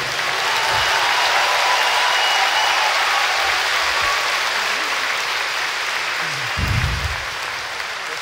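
A concert audience claps in a hall, with dense sustained applause throughout and a few louder thumps near the end.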